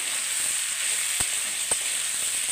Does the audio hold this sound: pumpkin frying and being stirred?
yes